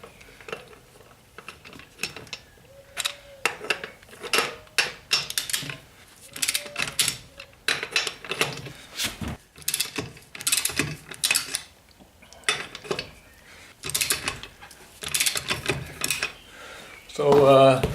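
Lug wrench loosening the wheel bolts on an Opel Corsa D, heard as a series of metallic clicks, ratcheting and clanks in irregular bursts, close by, with someone talking between them.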